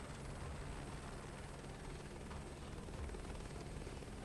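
Simulated helicopter flying slowly in Microsoft Flight Simulator 2024, a dense continuous rotor and engine roar, steady and loud, with no speech.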